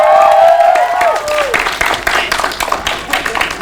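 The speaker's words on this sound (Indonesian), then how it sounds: "Tepuk tangan untuk toko kripto." Applause for the crypto exchange Tokocrypto, a crowd clapping and cheering that swells in after a loud voice and carries on as a thick, busy patter to the end.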